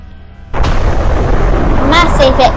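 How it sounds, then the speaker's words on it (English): A massive explosion in the PS4 video game The Last Guest erupts suddenly and loudly, followed by a sustained roaring rumble, with a shouting voice rising over the blast near the end. "Massive explosion."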